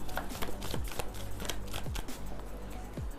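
Tarot cards being drawn and laid down one after another during a reading, giving soft dry slaps and quick shuffling rustles at close range, with no talking.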